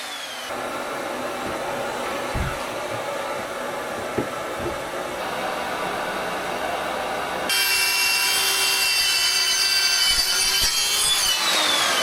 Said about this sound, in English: I cut the MDF with a track saw to the size of the stand floor area.